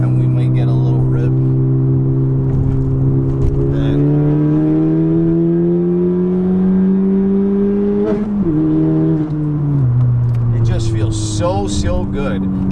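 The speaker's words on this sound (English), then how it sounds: "Downshift, and nice backfires." A car with a short shifter revs loudly in third gear, then downshifts with a sudden drop in engine pitch, followed by a burst of sharp popping exhaust backfires near the end.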